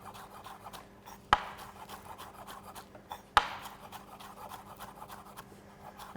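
A knife cuts green onion into thin slices on a board, with two sharp, distinct chops standing out against faint kitchen background hum and soft scraping.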